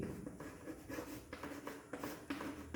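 Writing on a board during a physics lesson: a series of short, soft scratchy strokes, close and fairly quiet, with brief pauses between them.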